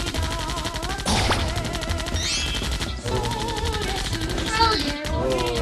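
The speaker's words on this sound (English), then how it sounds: "I'm shooting through the wall." Gunfire shooting through a wall in the co-op zombie game Zombie Panic comes as a loud, continuous rapid burst, while people speak and shout over it.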